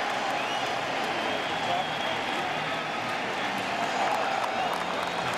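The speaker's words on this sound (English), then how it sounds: "And that wakes the crowd up." Baseball stadium crowd at a 2004 playoff game between the Angels and Red Sox stirs after an Ortiz double, a steady, dense roar of cheering and clapping, with a commentator talking over it.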